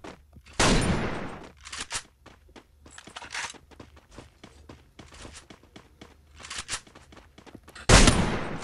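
Gunfire in the Free Fire video game, a mix of sharp single shots and rapid bursts firing in irregular clusters, with loud blasts at the start and end and quieter pops between.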